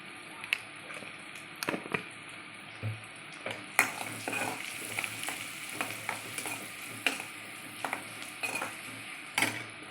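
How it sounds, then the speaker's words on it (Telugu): Urad dal and cumin sizzling in hot oil in a pan as turmeric goes in, a steady soft frying hiss broken by sharp clinks and scrapes of a spoon stirring against the metal. "ఇవి బాగా వేగిన తర్వాత కొంచెం పసుపు వేసుకోవాలి."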